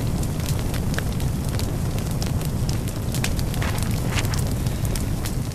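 Toast burning in a fireplace in the Little Inferno video game, a continuous loud crackling, roaring fire with dense popping throughout, no talk over it.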